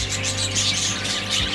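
A breeding aviary of African lovebirds and parakeets fills the air with a dense, continuous chorus of loud, high chirps and twitters from many birds at once.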